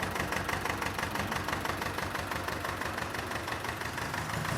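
A diesel C330 tractor engine runs steadily with a rattling, knocking chug, constant and fairly close, with no voices.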